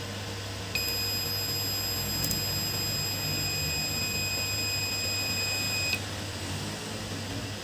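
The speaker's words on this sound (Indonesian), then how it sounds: "apabila buzzer ditekan, maka buzzer akan menyala selama beberapa detik" A microcontroller buzzer sounds one continuous high-pitched electronic tone lasting about five seconds, with a brief glitch partway through, over a steady low background hum.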